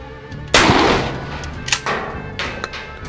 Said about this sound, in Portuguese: Disparo de SG na lateral do veículo, livre para disparo.